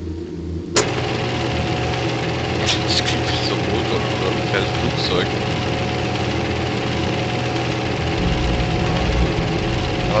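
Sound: engine droning in a video game

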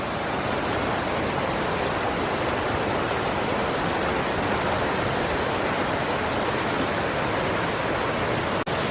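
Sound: water flowing over rocks at Sitakunda waterfall

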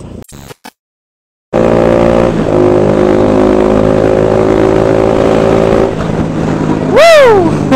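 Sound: motorcycle with SC Project exhaust revving

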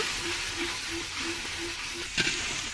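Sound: stirring biryani spices with onions in a pan

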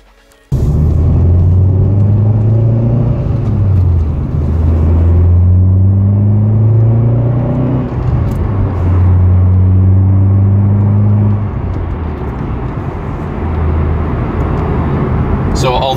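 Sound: Vauxhall Corsa VXR car driving on the road

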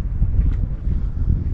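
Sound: wind blowing

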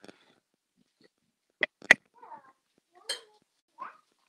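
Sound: cat playing with a loud ball toy

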